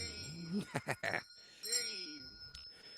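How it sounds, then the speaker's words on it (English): A shame bell rung during a live stream gives sharp metallic strikes clustered near the start, with people talking over and after the ringing. "Justin's got the shame bell"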